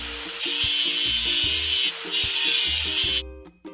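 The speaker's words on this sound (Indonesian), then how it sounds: "Ayo singkirkan karat mesinnya." Scrubbing rust off a toy excavator engine in a construction game, heard as two long bursts of harsh, steady scraping over a repeating low musical loop, ending with a short pause and a few soft clicks.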